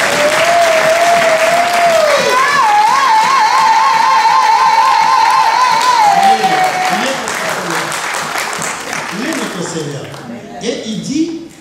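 A church congregation claps loudly and steadily in praise during a worship service, with a voice sounding over the dense applause before the clapping thins out.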